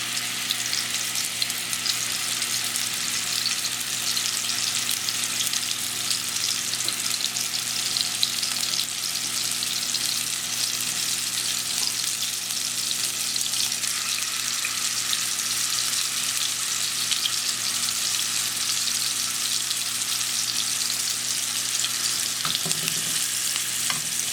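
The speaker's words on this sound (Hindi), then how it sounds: "अब आप अपने ये कबाब जो हैं ऑयल में डाल देंगे और बहुत तेज़ आंच नहीं रखनी, बस ज़रा स्लो आंच पे ही हम इनको फ्राई कर लेंगे" Gola kebabs frying in oil over a low flame, a steady, even sizzle that holds close and constant for the whole stretch with no talking.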